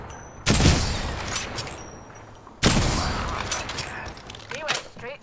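Weapon fire in the video game Apex Legends: two sharp, loud gunshot bursts a couple of seconds apart, each trailing off into clattering mechanical noise and rattling echoes.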